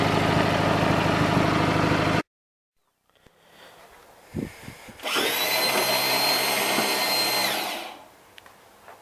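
A riding lawn mower engine roars steadily for a few seconds after a quiet stretch with scattered clunks, then winds down and cuts off.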